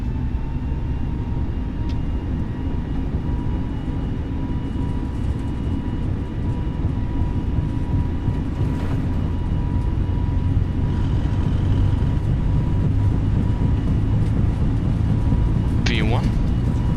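JetBlue airliner engines on the takeoff roll: a steady, loud broadband roar that holds for the whole stretch, with muffled voices underneath and a brief chirp near the end.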